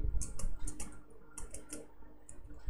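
Keystrokes on a computer keyboard while entering a value in a Google Sheets drop-down, a quick run of light clicks in short bursts with brief pauses, close and quiet, no talk.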